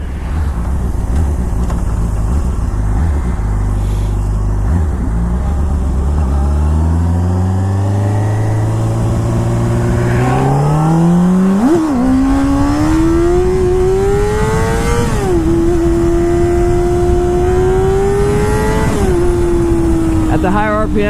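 A 600cc sport motorcycle is ridden and revved hard through the gears, its engine pitch climbing and dropping in repeated high-RPM sweeps with wind rush, loud and close, under a rider's voice.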